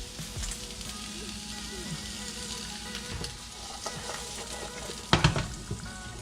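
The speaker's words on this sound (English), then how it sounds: "while the peppers and onions are frying" Chunks of peppers and onions sizzle and crackle in a pan for General Tso's chicken, a steady close frying hiss with a sharper clatter of stirring near the end, no voices.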